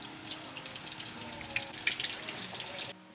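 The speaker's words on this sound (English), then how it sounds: "I'm just going to add some cold water into it" Cold water from a tap pours over cooked noodles in a strainer, a steady close splashing rush that runs for about three seconds and then cuts off abruptly.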